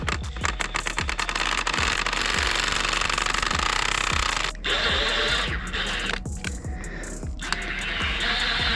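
A big impact wrench hammers bolts tight on the fuel tank of a 1996 Ford E-350 van, threads coated in copper anti-seize. Loud, rapid rattling bursts run close, pause briefly, then resume in shorter blasts.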